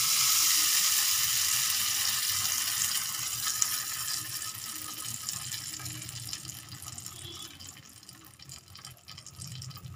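Tempering of cumin, black mustard seeds, dried red chilies, asafoetida and curry leaves poured into chutney, a loud bright hiss and crackle up close that gradually dies down.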